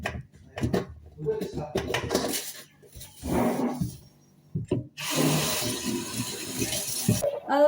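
Dishes, pots and cutlery being washed: intermittent clinks, knocks and rattles come in bursts, with people talking between and over the clatter.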